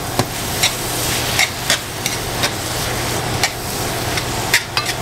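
Onions and mushrooms coated in flour frying in a pot for smothered pork chops, with a steady sizzle under repeated scraping stirs that knock against the pot at an irregular rhythm.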